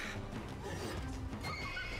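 A horse in the video game Wartales lets out a loud whinnying neigh, with faint hoof clip-clop and game ambience around it.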